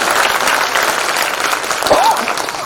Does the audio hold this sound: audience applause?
yes